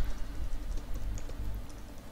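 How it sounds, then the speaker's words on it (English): Quick, close keystrokes patter on a computer keyboard in a short burst, with a low hum underneath. "If I can hit the right keys on the keyboard."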